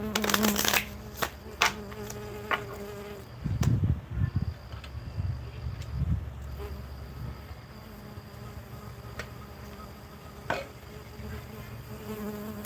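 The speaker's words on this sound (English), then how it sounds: "There's a bee." A bee buzzes close by in an intermittent, wavering drone, mixed with soft rustling and shuffling sounds and sharp clicks.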